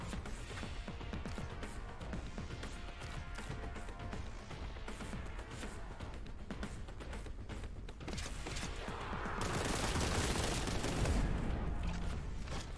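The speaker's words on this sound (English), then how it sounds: "Just blast a few fools, especially the ones with plasma guns." Rapid video game gunfire as enemies are shot, a continuous fusillade of close, crackling shots that swells louder near the end, with no talking.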